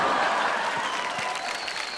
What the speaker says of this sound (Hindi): ताली ताली ताली अभी।